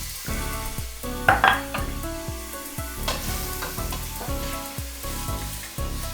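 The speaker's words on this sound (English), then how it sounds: "Once that oil is running around the pan, as usual, that means it's hot enough, and we're going to add in the meat." About a pound of lamb shoulder frying in hot oil in a pan, a loud continuous sizzle with repeated scraping and clattering as the meat is spread out and stirred.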